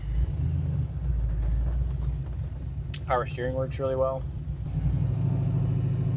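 A 1969 Camaro Z28 drives on, its engine a steady low rumble through the gear changes, while someone speaks briefly in the middle.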